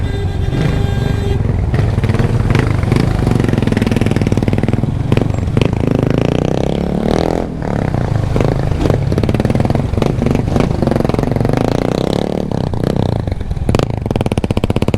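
A motorcycle engine idles with a steady low rumble and then revs repeatedly in loud bursts, close by on a Jamaican town street ride carrying a pillion passenger, with some mechanical clatter throughout.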